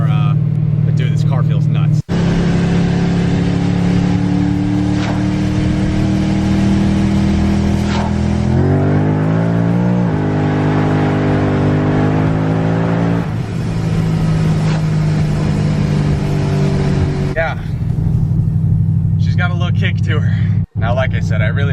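A Ford Mustang making 650 wheel horsepower pulls hard from second gear, its engine roaring loud and close as the revs climb, with audible shifts and the note dropping then rising again through the pull.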